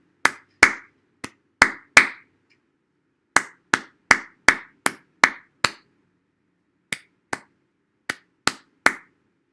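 Sharp, dry hand claps ring out alone in three groups, five, then seven, then five, beating out haiku syllables with short pauses between the groups.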